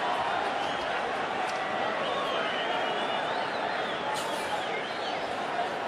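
A largely Mexican crowd at the Manny Pacquiao vs Juan Manuel Marquez boxing match roars in a dense, unbroken wall of cheering that stays loud and steady from start to finish.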